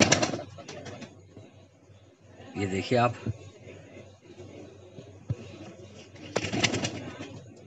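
A female pigeon coos in a short throaty warble in a loft while someone talks nearby, with light rustling and handling noises around it.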